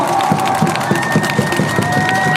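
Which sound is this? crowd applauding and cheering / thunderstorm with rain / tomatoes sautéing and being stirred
crowd applauding and cheering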